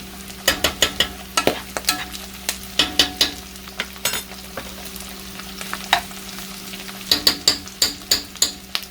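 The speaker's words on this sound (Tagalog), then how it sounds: "i-mix lang natin siya, i-mix. Ihalo natin yung ating bagoong." Spoon stirring bagoong into taro leaves simmering in coconut milk, with a steady run of sharp scraping clicks against the pot over a faint sizzle, pausing briefly before resuming.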